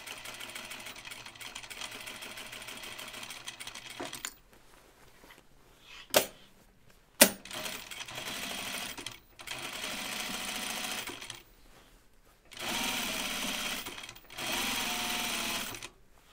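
A sewing machine stitches around the hood of an anorak in several short, quiet runs of steady whirring, separated by brief pauses and a couple of sharp clicks.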